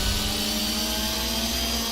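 Engine sound of a Mitsubishi Lancer Evolution IV with its turbocharged 4G63 engine in Gran Turismo 4, a continuous droning roar with a steady whine at moderate level and no voices.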